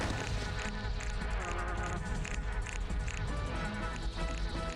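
Dense insect buzzing fills a hive in the Anachronox video game, a steady droning swarm with overlapping rhythmic pulses, loud and continuous throughout.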